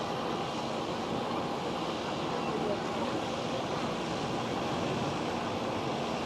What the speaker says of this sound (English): There goes the KLM 737.